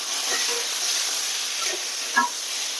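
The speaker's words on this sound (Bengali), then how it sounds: "এবার এখানে আমরা আর ডিমটা দিয়ে দিয়ে আবার একটু কষাবো" Eggs frying in a spice masala, a steady broadband sizzle with a sharper spit near the end, fairly close and continuous with no talk over it.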